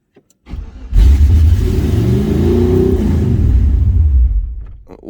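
An IAC-tuned car engine cranks and catches after the key is turned, then revs loudly and holds a rough, rumbling idle up close before tapering off.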